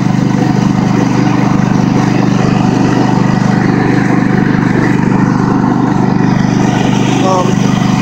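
A Craftsman ProSeries garden tractor drives along with its mower deck fitted, the engine a steady, loud, close rumble running unbroken over a winter track.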